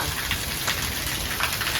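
Heavy rain pours down in a dense, steady hiss of drops striking the ground and nearby surfaces, loud and close with no voices.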